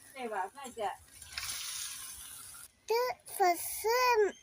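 Tomatoes sautéing in a pan for chicken gravy, a soft steady sizzle running underneath, with a person talking over it at the start and end.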